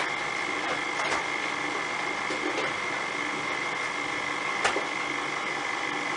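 An electric mixer beats homemade cheesecake batter, giving a steady, dense motor whir that stays constant and fairly loud throughout, with small knocks from the beaters against the bowl.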